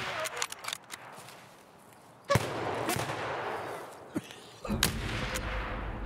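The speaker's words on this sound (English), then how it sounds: "Why did he shoot you in the first place?" Gunfire in the video game Escape from Tarkov: a few sharp, loud shots spaced a couple of seconds apart, the last one followed by a lingering rumble, with no talk over them.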